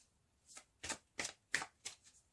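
Tarot cards shuffled by hand in five crisp riffling bursts spaced about a third of a second apart, close and fairly quiet, with no voices.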